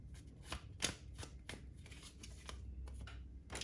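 A deck of tarot cards being shuffled by hand, with a quick series of crisp riffling flicks and soft slaps, close and fairly quiet, with no talking.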